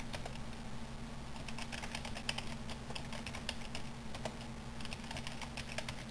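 Fast, uneven keystrokes on a computer keyboard, steady and close, with a low electronic hum running underneath and no talking over it.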